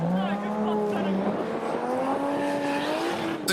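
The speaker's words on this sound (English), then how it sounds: "the white Chaser drift car." A white Chaser drift car at a modified car show howls through a drift, its engine note sweeping and tires squealing continuously, heard loud across the venue for a few seconds.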